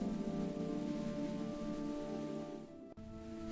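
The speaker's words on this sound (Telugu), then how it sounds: "వర్షం ఇప్పుడు నెమ్మదిగా మారింది." Light, easing rain patters steadily at a constant level in a village, with a faint tonal drone behind it and a brief click near the end.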